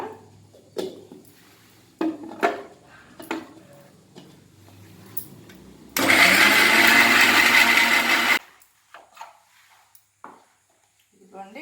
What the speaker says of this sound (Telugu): చిన్న మిక్సీలో పేస్ట్ చేసుకుంటాను